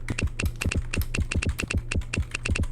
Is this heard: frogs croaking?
no